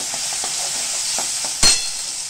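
Chakvat (bathua) greens tipped into a hot pan with crushed garlic, giving a steady close sizzling hiss with soft stirring scrapes and one louder burst near the end.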